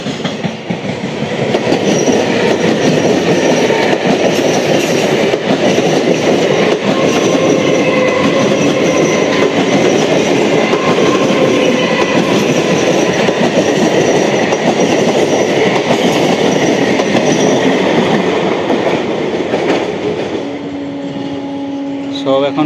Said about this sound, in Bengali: দেখুন এটা হচ্ছে 3:55 শিয়ালদা নৈহাটি লোকাল।